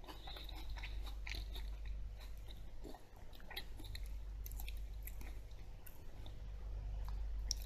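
Biting into and chewing a crisp Jonagold apple up close, with repeated soft crunches and wet mastication sounds continuing steadily and no speech.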